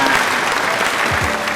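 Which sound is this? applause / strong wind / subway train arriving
applause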